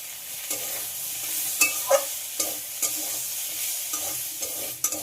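Ginger and turmeric sauté in a hot pan of oil while being stirred for a snakehead fish dish, with a low steady sizzle broken by repeated scrapes and clinks of the spatula.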